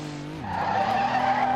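A drag car launches in third gear in the racing game Street Legal Racing Redline, its engine note dropping and then settling into a steady strained drone with a tire squeal, loud and close.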